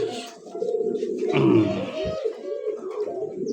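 A crested, stamped domestic pigeon at a pigeon market gives a low, throaty coo that swells and falls across the moment, close and fairly loud, with a brief grunt-like note near the middle and no talking.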